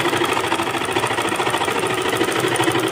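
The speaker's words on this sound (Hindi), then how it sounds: "बिल्कुल सेंटर में हमें एक सिलाई लगानी है अपनी मशीन की चाल को बड़ा करके" Sewing machine running continuously at a steady fast pace while stitching a center seam on palazzo pants with a long stitch length, a loud, even mechanical whir with rapid rhythmic clatter throughout and no talking.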